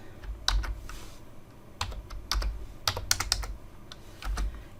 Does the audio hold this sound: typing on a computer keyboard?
yes